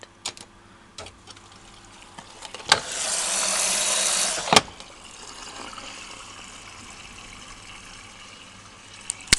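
A washing machine taking in water on a home wash day with tablecloths in the load, a steady hiss of inflowing water swelling for about two seconds between sharp clicks, then a faint trickle continuing quietly.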